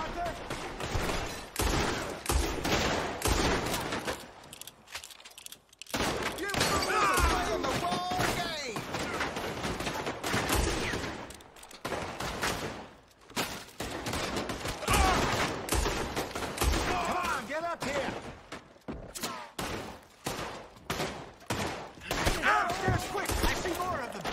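Rapid volleys of gunfire from Red Dead Redemption 2 crack in dense bursts with brief lulls, loud and continuous throughout, with voices talking over the shooting.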